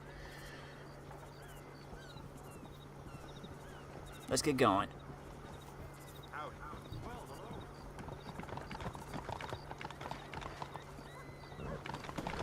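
Horse in the Red Dead Redemption video game gives a loud, brief whinny, then steady clip-clop of hooves continues under a voice.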